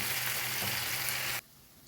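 Steady, close sizzling of liver frying in a pan, broadband and even, cutting off abruptly near the end and leaving quiet.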